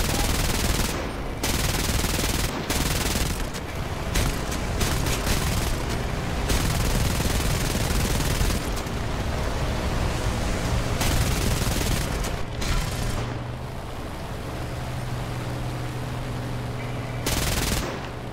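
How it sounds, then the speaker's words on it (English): An aircraft tail gunner's machine gun fires in long rattling bursts during a War Thunder air battle, loud and dense, with short pauses between volleys and a lingering engine drone underneath. "Yes, tail gunner, shoot them."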